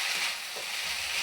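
Banana flower (mocha) curry for vegetarian ghonto sautéing in a pan, a steady close sizzle throughout with a brief stir scrape near the middle, no voices.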